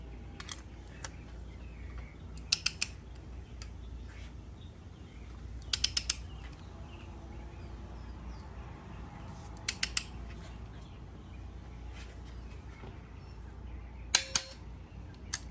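A torque wrench tightens nuts on a Hyundai Genesis Coupe engine head during assembly, with short clusters of crisp ratchet clicks every few seconds over a faint background hum.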